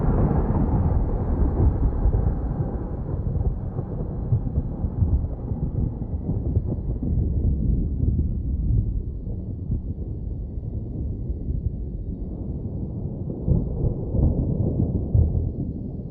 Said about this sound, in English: but I do like the storm.